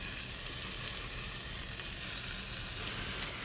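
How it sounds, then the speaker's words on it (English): Spinach going into hot olive oil with onion, giving a dense, even, crackling sizzle that holds steady and close throughout with no pauses and no voices. "we're going to add this spinach to the olive oil"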